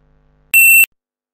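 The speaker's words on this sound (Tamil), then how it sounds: "இப்போ நான் வந்து ஒரு பீப் சவுண்ட் எடுத்துக்கிறேன்." A single synthetic electronic beep alert, chosen as a notification tone in HIT Forker for an MTurk account, sounds once for about a third of a second, bright and steady, then cuts to silence.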